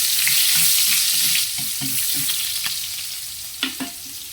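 Onions sautéing in a pan, a steady sizzle with a run of scraping stirs and clicks against the pan, then a couple of sharper knocks near the end; close and fairly quiet, no voices.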